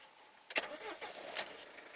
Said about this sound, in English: instantly starts up and settles down to a nice idle.